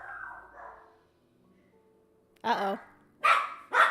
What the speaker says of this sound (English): No barking, please.